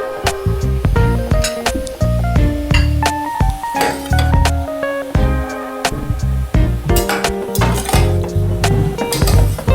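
A spoon clinks and scrapes against a pot while stirring chicken Manchow soup seasoned with salt and pepper, giving repeated metallic taps at an irregular rhythm over steady background music.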